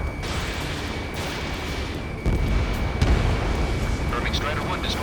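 Gunfire and roaring jets in the Ace Combat 7 video game, a continuous heavy rumble that grows louder partway through, with sharp bursts cutting through and radio voices chattering over the top.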